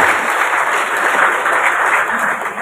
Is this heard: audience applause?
yes